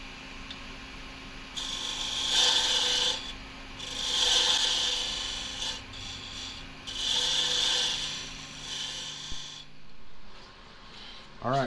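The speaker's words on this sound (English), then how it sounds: "I'll probably use my square small carbide cutter for it." Wood lathe turning with a small square carbide cutter, making a parting tool with a brass ring: three long rasping cuts, each a couple of seconds, separated by short pauses, fairly close and steady over a constant motor hum.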